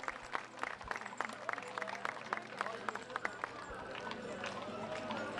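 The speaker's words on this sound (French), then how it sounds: "Bravo, on les applaudit." Spectators at the 150th-anniversary parade in Sainte-Hélène-de-Chester applaud a horse-drawn cart team, scattered claps sounding through steady outdoor crowd noise while someone speaks over a loudspeaker.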